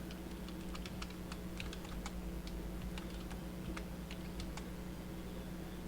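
Computer keyboard keys clack in irregular bursts of quick taps, fairly faint and close, over a steady low electrical hum.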